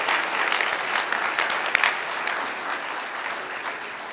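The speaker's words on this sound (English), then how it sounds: "Let's give them a round of applause, for sure." A faith-community audience at a multi-faith solidarity gathering applauds, dense continuous clapping that starts strong and gradually thins out, with no talking over it.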